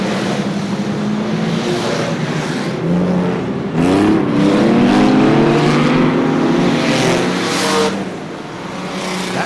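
Super Rod racing car engines roar loudly at close range as cars pass on a 1978 British Championship track, with a car lapping a slower back marker through the top turn; the engine note swells and holds steady before easing off.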